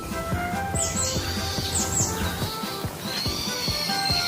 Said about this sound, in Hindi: मम्मी, ये चिड़िया की आवाज कहाँ से आई?